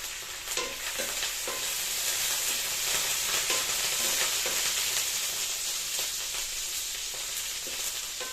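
Ground chutney gravy with peanuts and curry leaves frying in tempering oil, a continuous bright sizzle and crackle with occasional stirring scrapes, close and steady, no voices.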